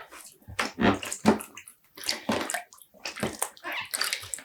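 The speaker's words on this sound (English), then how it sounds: "I'm squeezing it or pushing it down into the water to make sure everything gets soaked and wet" Yarn is pushed and squeezed down into a basin of dye water, giving close, uneven sloshes and squishy splashes in irregular bursts with short quiet gaps, and no talking.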